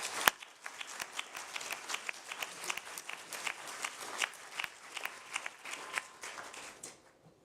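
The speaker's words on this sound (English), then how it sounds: "warm round of applause for our panellists" At a public services summit, a small audience claps for a panel, a sparse, faint patter of individual hand claps with distinct separate strikes, continuing for several seconds before stopping.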